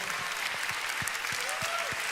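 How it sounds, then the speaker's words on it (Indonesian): Congregation applause fills a church service, a steady wash of many hands clapping throughout with a few low thumps and a faint tone over it. "Give a big hand to Jesus."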